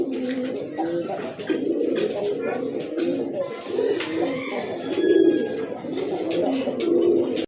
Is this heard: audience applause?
no